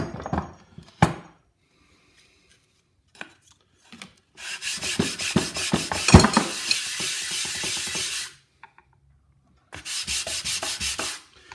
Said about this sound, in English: So I'm just going to quickly sand this up a bit more.